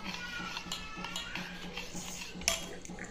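Mango paste and mango juice mixture being stirred in a bowl for mango ice cream, with soft repeated spoon scrapes and light clinks at a steady pace, quiet and without talking.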